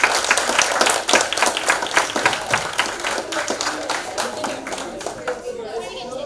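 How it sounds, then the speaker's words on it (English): A room of people at a quiz competition applauds the quiz master, with dense, lively clapping that gradually thins out and fades over several seconds. "a big round of applause for the quiz master"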